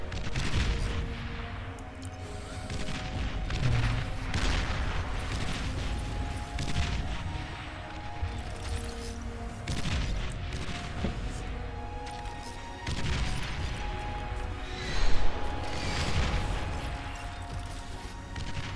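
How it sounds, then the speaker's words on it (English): Long range artillery bots firing missiles in the real-time strategy game Beyond All Reason, a dense run of thuds, cracks and booms over a continuous battle din, with a sharper burst near the end. "I just try to use the long range artillery bots to get some missiles across"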